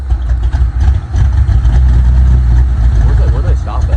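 A Ford F100 V8 idles with shorty headers, 3-inch pipes and 3-inch afterburner mufflers turned down at the rear, a steady deep rumble close by with people talking over it.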